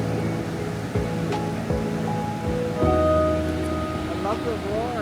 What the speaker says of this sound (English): I love the roar of the ocean.